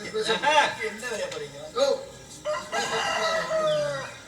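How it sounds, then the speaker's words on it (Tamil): A rooster crows amid clucking chickens on a farm, its calls rising and falling several times at moderate distance while people talk over the birds. "கோழி வேற கூவிருச்சியா"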